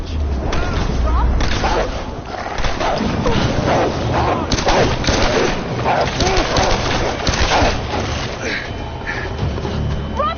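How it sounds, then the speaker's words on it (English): Gunfire from the Tomb Raider video game, a dense continuous barrage of shots and crackling bursts that runs loud throughout, mixed with game voices talking over it. "they hear bullets going off"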